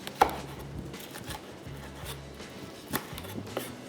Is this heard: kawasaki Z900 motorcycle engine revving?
no